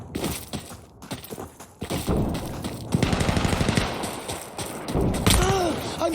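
Gunfire and thudding blasts ring out in Insurgency Sandstorm as chemical mortar rounds are called in, with machine-gun bursts, heavy thumps and rumbling impacts building in loudness, and game voices faintly mixed in.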